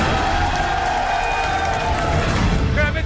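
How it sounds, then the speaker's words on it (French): Studio audience applauding and cheering for a group of construction workers on a French TV show, a dense steady wash of clapping and crowd noise filling the whole stretch with some talk mixed in. "Applaudissez pour ces pros du bâtiment."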